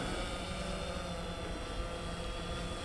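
A DJI Phantom 2 Vision Plus drone hovers and rotates in flight, its propellers giving off a steady high-pitched buzzing whine, constant and fairly close, with wind noise underneath.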